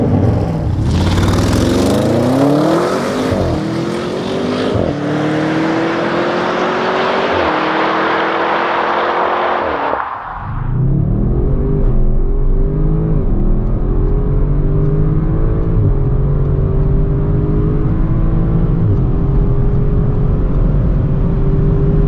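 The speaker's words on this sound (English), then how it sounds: "Let's start with the Audi RS6 with an acceleration from the standstill" Audi RS6 accelerating hard from a standstill, engine loud and close, climbing through the gears with a sharp shift break midway, then rising steadily again.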